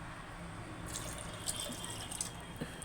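Water pours steadily into a cooking pot of greens, a faint trickling stream with a few splashy spikes, close and quiet.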